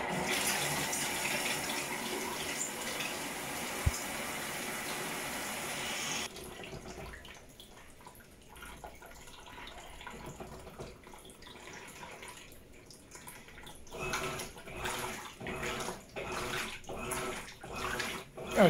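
An Electrolux LED15/LED17 washing machine fills with water, a loud steady rush of running water that cuts off into quieter sloshing and churning, with a voice speaking briefly.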